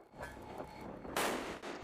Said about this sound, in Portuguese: este é o MK-45. Ele dispara projéteis de 5 polegadas de diâmetro